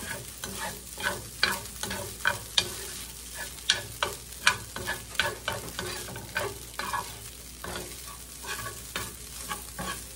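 Steak frying in a pan while black pepper and cumin are stirred through it, a steady sizzle broken by repeated scraping strokes of the utensil, close and fairly loud, with no talking.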